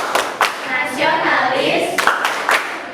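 A classroom group performs the tepuk PPK clapping game, sharp rhythmic hand claps in quick bursts, spaced with short pauses, while voices chant along between them.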